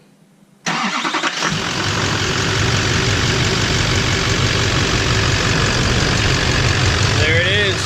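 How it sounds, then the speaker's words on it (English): LBZ Duramax diesel fired up after a Danville Stage 2 turbo install, cranking briefly then catching and settling into a loud, steady close idle, with voices talking over it. "There it is. Turbo is in. We're gonna let it idle."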